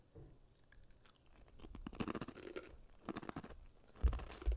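Close, crunchy chewing of an oven-baked Taco Bell Taco Supreme snack, with irregular bites and crackling crunches over several seconds and no talking.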